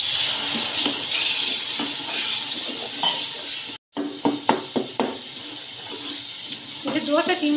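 Water splashes and sizzles into a hot pan of masala for fish curry, a steady rushing hiss broken by a brief gap, then stirring clinks and bubbling.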